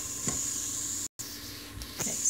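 Ginger and garlic sautéing in an Instant Pot make a soft, continuous sizzle and hiss, with a few faint stirring scrapes and a brief gap of silence in the middle.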